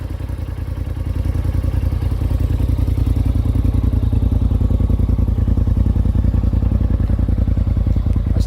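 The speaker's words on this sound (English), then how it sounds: "now it's a full Trinity exhaust" A 2018 Polaris RZR Turbo side-by-side fitted with a full Trinity exhaust runs with a deep, throbbing idle, its rapid steady pulsing loud and close, swelling slightly early on and then holding even.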